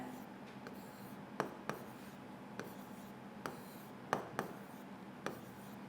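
Chalk or marker writing on a board during a physics lecture, heard as faint scratchy strokes with sharp taps at irregular intervals over a quiet room, with no clear talking.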